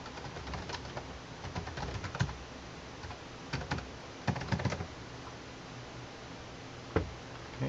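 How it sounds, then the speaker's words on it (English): A password being typed on a computer keyboard, a quiet, uneven patter of key clicks in short bursts with pauses between them, close and without speech. "So just type in your password."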